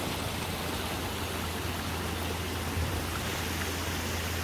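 A river stream flows steadily beside a rock wall, a close, continuous broadband rush of water with no pauses or voices.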